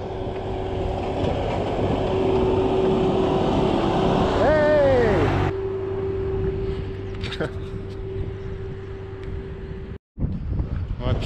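A vehicle engine drones steadily on a mountain road, with a louder passing rumble from a tractor being overtaken that shifts and fades, plus a brief dropout near the end.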